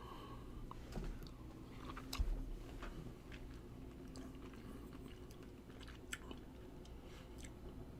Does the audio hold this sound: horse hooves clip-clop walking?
no